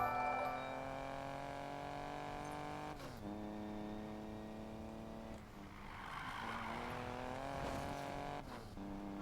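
A car in the Need for Speed Payback video game drives and revs, its engine note climbing and dropping sharply at each gear shift, steady and close with no talk over it.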